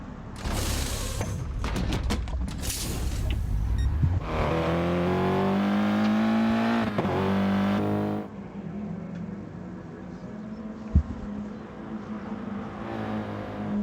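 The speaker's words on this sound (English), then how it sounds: "See if the Audi boys can get these tyres changed quickly." Pit stop for an Audi race car in a racing video game: rapid bursts of tyre-change mechanisms over a running engine, then the engine revs up and drones steadily as the car pulls away.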